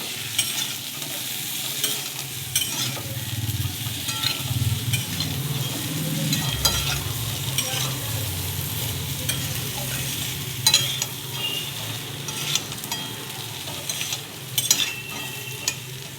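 Potatoes fry in a pan of oil with winter vegetables waiting to go in, a steady dense sizzle with occasional stirring scrapes and clinks, close and continuous throughout.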